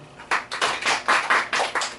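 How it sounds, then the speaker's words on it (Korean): A room full of people claps together in a burst of rhythmic applause, loud and close, with roughly regular beats for about two seconds and no talking. "박수."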